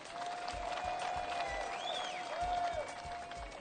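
Steady crowd clapping fills the scene, with a continuous wash of hands and a tonal whine running underneath, fairly loud throughout.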